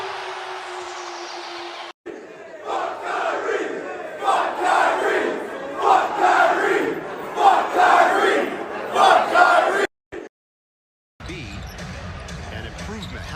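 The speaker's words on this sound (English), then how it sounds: "So once again, Blake gets the crowd going." A basketball arena crowd roars and cheers during an NBA Nets game, a loud swelling wash of noise that rises for several seconds, with an announcer talking over parts of it.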